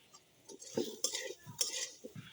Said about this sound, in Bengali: এটা আমি তেল ছাড়াই ভেজে নিব